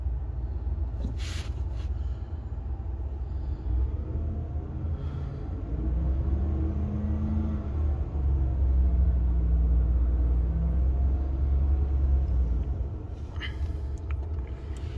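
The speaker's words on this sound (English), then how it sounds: "Just revved it up there a little bit for you." Pickup truck engine idling with a low steady rumble, then revving up with a rising drone midway before settling back down, heard close with no talking.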